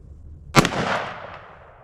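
A single sharp, loud gunshot from a short 2-inch barrel .38 Special revolver outdoors, with a quick crack followed by a trailing echo.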